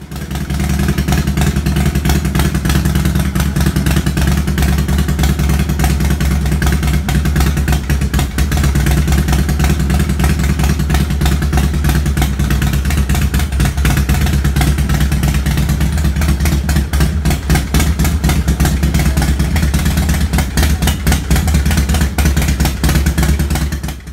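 A Harley motorcycle engine runs nearby with a loud, steady low rumble and a fast, uneven lope, holding constant for over twenty seconds without voices.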